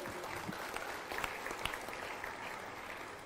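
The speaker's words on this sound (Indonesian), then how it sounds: "Boleh berikan tepuk tangan untuk narasumber kita?" An audience at a religious lecture gives a steady round of applause, a dense crackle of clapping at moderate distance with no talk.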